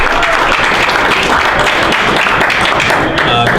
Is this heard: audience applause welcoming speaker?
yes